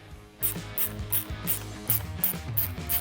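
A ratchet fitted with an extension and a 3/16 hex bit backs out headlight bolts on a Harley Road Glide, giving close, crisp bursts of clicking in an even rhythm of about eight quick pulls, with no talking.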